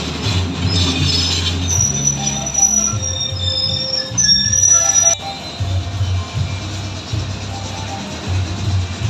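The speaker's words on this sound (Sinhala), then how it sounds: "මේ පොළොන්නරුව දෙසින් මඩකල්පුව දෙසින් මහවහන්දිය බලා ධාවනය දුම්රිය" A train running from Polonnaruwa toward Maho junction rumbles past with a low, steady roll, high metallic squeals from the wheels rising and falling over the noise.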